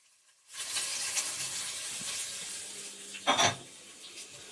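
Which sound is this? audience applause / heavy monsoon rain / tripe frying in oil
tripe frying in oil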